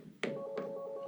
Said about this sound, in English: Why is the bat phone ringing?